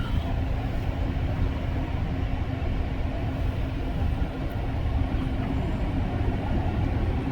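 An REM light metro train runs between Brossard and Canora stations in the early morning hours, heard from inside as a steady, loud, even rumble and rolling drone with no talk.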